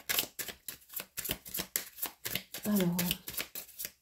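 Tarot cards are drawn and shuffled from a deck in a series of quick papery flicks and slides, close and fairly loud, with a short spoken word partway through.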